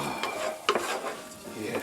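Garlic and orzo pasta toasting in a pan for shrimp scampi, stirred with a utensil: soft scraping strokes and a light clink against the pan over a faint, quiet sizzle.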